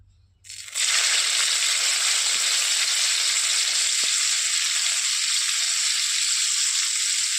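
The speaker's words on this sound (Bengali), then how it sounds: "কড়াইতে তেল দিয়ে দিয়েছি, তেল গরম হয়ে গেছে" Bitter gourd coated with salt and turmeric drops into hot oil in a wok, bursting into a loud, steady, hissing sizzle that continues unbroken after a brief quiet start.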